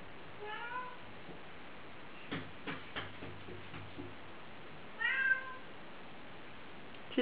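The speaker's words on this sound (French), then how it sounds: "je crois que vous allez entendre le chat pendant toute la vidéo." A cat meows twice, thin and a little distant, with a few soft clicks and taps in between against a faint hiss.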